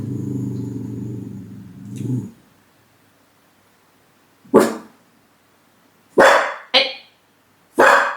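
A dog lets out four loud, sharp barks close by, spaced a second or so apart, following a stretch of low rumbling noise.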